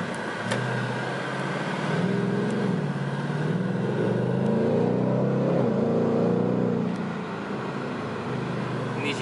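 A Ford Mustang GT engine revs and surges in Sport Plus mode, rising to a louder roar in the middle before easing off, heard from inside the car.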